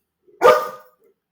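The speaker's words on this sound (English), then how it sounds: "Sorry, dog." A single loud, close dog bark, a sharp burst that fades quickly and leaves quiet behind it.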